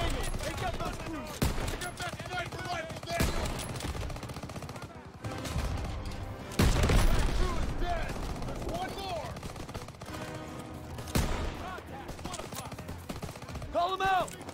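Heavy gunfire in Call of Duty: WWII combat, with continuous rapid rifle and machine-gun bursts and loud blasts throughout, under shouted voices and talk.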